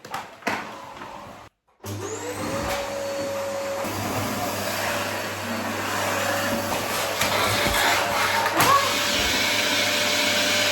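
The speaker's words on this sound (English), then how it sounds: "it's really just 10 minutes of me vacuum cleaning" A vacuum cleaner runs steadily through an apartment, a loud close motor drone with a whine that starts after a short pause and keeps going alone, shifting slightly as it moves.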